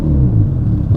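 A Ferrari Portofino M's twin-turbocharged V8 idles in comfort mode, giving a loud, close, steady low rumble with no speech.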